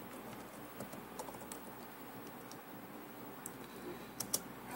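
Commands are typed on a computer keyboard, heard as faint, irregular key clicks over a steady low hum, with a few sharper taps near the end.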